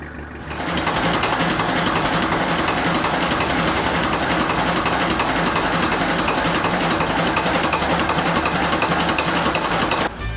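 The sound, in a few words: Yanmar boat diesel engine running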